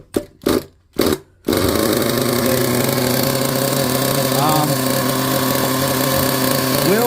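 Team Associated MGT RC truck nitro engine, a few short revving bursts with gaps, then it catches and runs continuously as a loud steady buzz close by.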